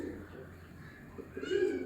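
A Jonsiry pigeon coos softly in low, rounded murmurs, swelling louder toward the end, close by and alone.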